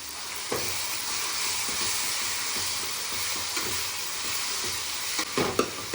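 Ginger garlic paste frying with tomatoes in a pan for a Kumbakonam-style kadappa, stirred steadily; a continuous close sizzle carries irregular scraping strokes, with a louder clatter near the end.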